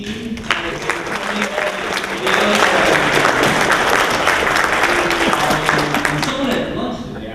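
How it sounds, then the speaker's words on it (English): Conference audience applauding the AV team at a Python lightning-talk session, a dense steady wash of many hands clapping that swells after a couple of seconds and holds loud before tapering slightly, with a few voices mixed in. "So let's give a round of applause for the AV team."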